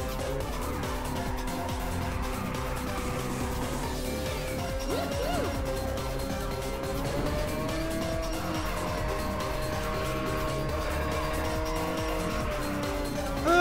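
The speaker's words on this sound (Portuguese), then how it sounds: "Você vai ficar derrapando de um lado pro outro" A car drifts side to side through tight curves in Ridge Racer 7. A sustained engine whine rises and falls beneath long, loud tire squeals and skids, with no talking.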